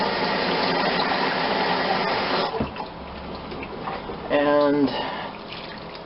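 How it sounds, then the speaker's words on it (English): Six cups of water going into a pot for Provençal vegetable soup with white kidney beans, a steady splashing pour that fills the first half loudly, then fades as a voice speaks. "Now we add our 6 cups of water."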